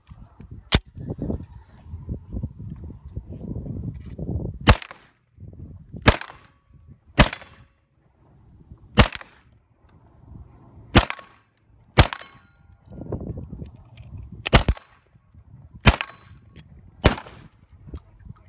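A 9mm long-barrel pistol fires at an outdoor shooting range: about ten sharp, loud single shots spaced a second or two apart, with softer handling noise and low rumble between them.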